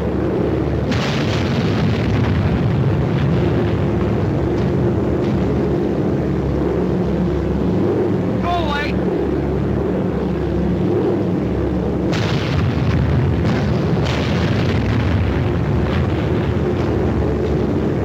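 Cluster incendiary bombs exploding during a 1942 bombing raid on Tokyo in an old war film: a steady low rumble of booming blasts goes on throughout, with bursts of louder explosions near the end.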